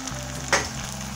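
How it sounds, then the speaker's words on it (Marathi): Poha (flattened rice) deep-frying in hot oil, a short steady sizzle near the pan with a sudden louder hiss burst midway before settling back. "आपण हे सर्व पोहे असे तळून घ्यायचे।"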